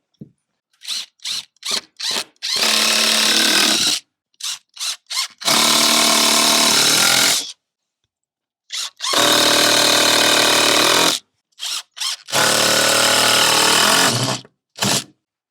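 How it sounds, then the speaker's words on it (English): A power drill drives screws into wood while building a chicken coop in a barn: loud bursts of whirring and straining alternate with short stuttering trigger pulses and silent gaps, close up with no talk. "we'll just screw them onto the wall here"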